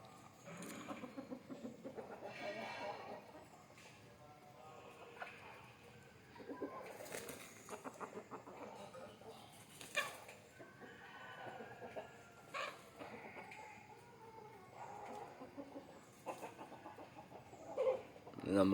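Native country chickens being let out of their coop give faint, scattered clucks and calls, with people talking intermittently over them.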